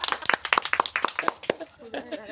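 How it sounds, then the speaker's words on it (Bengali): Children clap their hands in a quick burst of sharp, uneven slaps during a classroom glass-blowing game, with a voice and chatter mixed in near the end. "হাততালি"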